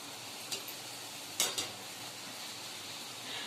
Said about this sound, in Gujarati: તો આપણે હવે પૂરી તળ નાખી.